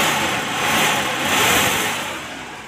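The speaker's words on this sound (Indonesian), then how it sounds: "Mesin halus sekali." The engine of a 1997 Suzuki Espass car idles with a smooth, even hum, close and fairly loud, swelling slightly twice before easing off.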